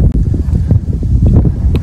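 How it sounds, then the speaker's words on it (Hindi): Wind gusts buffet the microphone outdoors during an evening barbecue meal in South Africa, a loud, steady low rumble with irregular thumps and no clear talk. "हवा चल रही होगी, आवाज आपको थोड़ी आ रही होगी"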